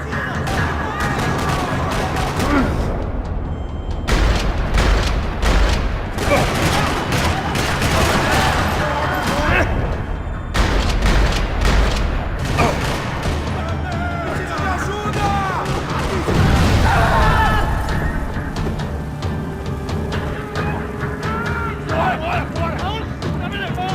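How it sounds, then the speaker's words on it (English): Bursts of rapid gunfire crackle repeatedly over a noisy scene in a parking lot in the video game Max Payne 3, dense volleys with short gaps, while voices shout and talk underneath. "Another parking lot rattling with gunfire."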